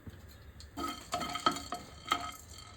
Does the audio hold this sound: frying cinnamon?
yes